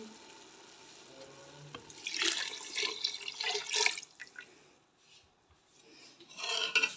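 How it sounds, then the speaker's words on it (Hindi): Water poured into a cooking pot holding qeema daliya with lentils, splashing in uneven bursts with brief pauses and faint clinks of utensils nearby. "5 गिलास पानी के डालेंगे।"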